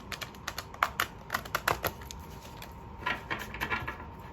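Quick bursts of light papery clicks and riffles from tarot cards being shuffled, two clusters with a brief pause between, close and fairly quiet.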